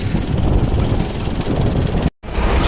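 Loud, steady wind buffeting the microphone outdoors in a field while baling barley straw, a continuous low roar with a brief dropout near the end.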